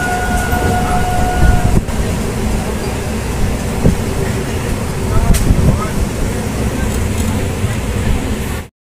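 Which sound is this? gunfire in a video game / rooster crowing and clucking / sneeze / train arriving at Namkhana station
train arriving at Namkhana station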